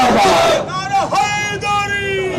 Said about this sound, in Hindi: अमेरिका और इजराइल के खिलाफ मुर्दाबाद के नारे लगा रहे हैं